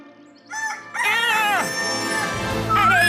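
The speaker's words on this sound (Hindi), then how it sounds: "अरे ये मुर्गा है कहाँ? उसकी आवाज कुकड़ू को आ रही है।" A cartoon rooster crows in a loud, drawn-out cock-a-doodle-doo with bright, bending pitched tones, heard in several quick bursts over about three seconds.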